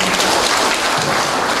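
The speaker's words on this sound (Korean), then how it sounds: "다시 한번 부상자의 뜨거운 박수" An audience at an award ceremony applauds steadily, a dense, even wash of clapping heard alone.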